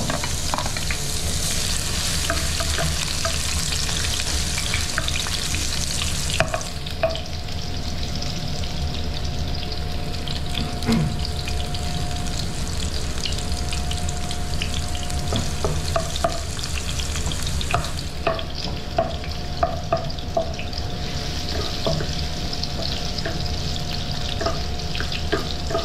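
Garlic fries in a pan with a loud, continuous close sizzle, punctuated by repeated stirring clinks and scrapes and a faint steady hum in the background.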